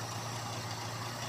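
A Ford Laser's carbureted engine idles steadily, a continuous close hum with a low rumble and no talk over it.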